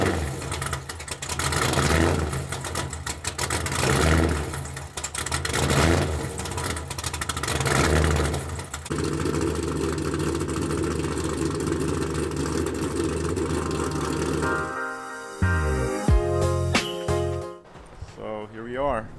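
A BMW E36 with a V8 engine swap runs on a dyno, a loud steady engine drone with rising and falling revs filling most of the stretch, ending with a few sharper revving bursts.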